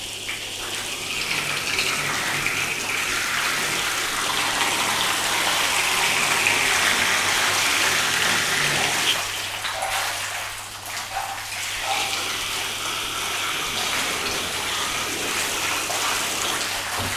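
High-pressure garden hose spraying water steadily over a coated car, a loud constant gushing hiss that briefly shifts and splashes as the stream moves, no talk.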